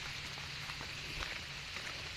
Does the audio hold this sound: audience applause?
no